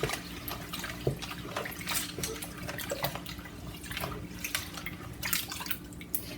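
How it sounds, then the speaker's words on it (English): Rice being washed in water in a kitchen, with steady wet splashing and dripping trickles close by, the swishing rising and falling in loose bursts throughout, no voices. "And now we wash the rice again."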